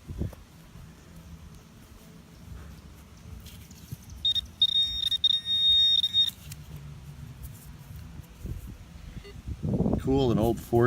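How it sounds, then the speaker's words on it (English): A metal detector sounds a steady, fairly loud electronic tone for about two seconds as it passes over a buried coin-like target at an old dig site, with rustling ground noise before and a burst of handling noise near the end. "This is ringing up as a penny."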